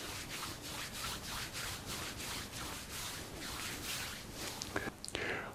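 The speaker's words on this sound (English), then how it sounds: "we can briskly rub behind the knees." Hands briskly rub behind the knees in a fast, steady back-and-forth rhythm of soft, close friction strokes, about two per second, with a few small taps and rustles at the end.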